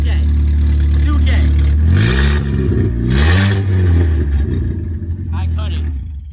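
A Volkswagen Jetta 2.0 with a full straight-pipe exhaust revs up and back down twice, a loud, raw, rising and falling engine blare close by that settles toward idle at the end.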